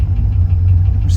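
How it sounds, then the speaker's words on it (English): A cold, carbureted LS V8 in a second-generation Pontiac Firebird runs roughly with a low, uneven rumble, coughing and sputtering slightly. "It's coughing and spluttering. It could be the timing because it's cold."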